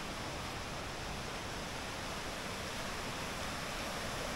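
A forest river near a campsite at Bukit Tinggi, Malaysia, rushes in a steady, broad hiss, a continuous flowing stream with no pauses or voices.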